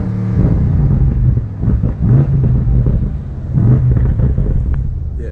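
A BMW M8 850i's exhaust rumbles deep and loud up close, swelling in a few revving surges over a steady low drone.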